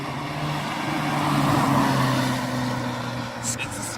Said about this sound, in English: It's a Skoda!